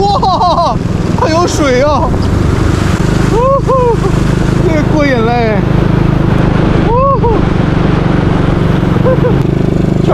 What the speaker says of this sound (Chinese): 骑上我心爱的小摩托，它永远不会堵车